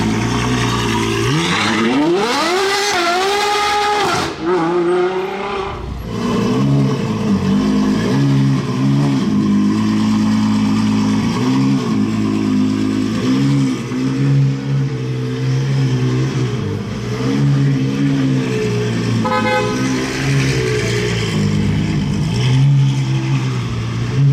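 A Ferrari 812 GTS engine revs hard and loud, climbing and falling in pitch, then settles into a deep, sustained roar nearby, in Monaco.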